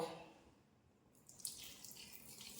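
About two tablespoons of water pour into a pot of avial being cooked, a faint splash and trickle that rises after a quiet start.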